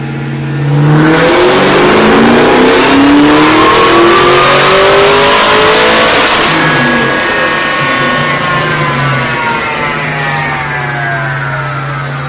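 A Cobra fitted with a JLT 12-inch cold air intake revs hard on a dyno with the hood closed, the engine note climbing steadily in pitch, loud and close, then easing off and holding a lower drone.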